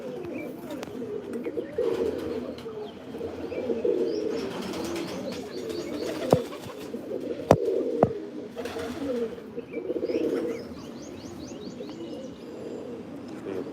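Pigeons coo softly and repeatedly nearby while being fed bread, with chirps and a few sharp taps and rustles mixed in, no talking.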